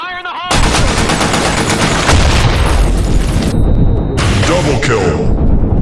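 Loud video game combat: a grenade bursts amid rapid, continuous gunfire, with dense repeated shots and booms crowding the whole stretch and a voice calling out over the action.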